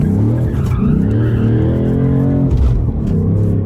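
A Ford Mustang Dark Horse drifting with the handbrake, tires skidding and squealing under a loud, steady engine roar, close-up and continuous throughout with no talk.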